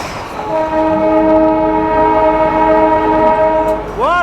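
Darjeeling toy train running on a round railway loop, its horn sounding in a long steady multi-tone blast close by, followed by a brief rising squeal, with rolling rail noise beneath.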